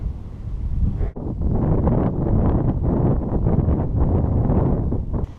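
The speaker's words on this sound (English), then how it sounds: "Bit windy up here." Strong wind buffets the microphone on the Lonscale Fell summit in the Lake District, a loud, continuous low roar with gusty surges and only a brief dip near the start.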